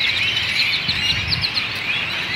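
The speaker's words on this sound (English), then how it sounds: "birds all over the telephone line" A large flock of birds perched along telephone lines makes dense, continuous high chirping, with many overlapping calls heard together from a moderate distance.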